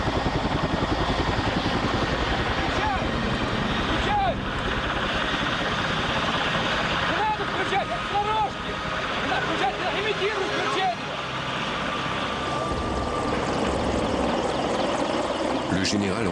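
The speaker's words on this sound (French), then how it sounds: "sa flotte de 80 hélicoptères sont envoyés de Moscou à l'assaut du brasier" Steady roaring rotor and engine drone of a fleet of military helicopters passing overhead near the Chernobyl fire, with faint chatter and occasional squeaky calls in the background throughout.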